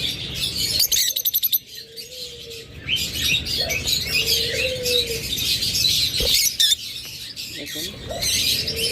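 Caged lovebirds at a bird seller's chirp and squawk continuously in a busy chorus, with a few louder calls and background noise mixed in.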